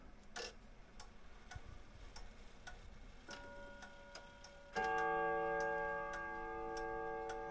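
Antique 1930s Fasco wall clock ticking steadily in beat, sharp evenly spaced ticks close by, then a sustained ringing chime tone swells in partway through and hangs under the continuing ticks.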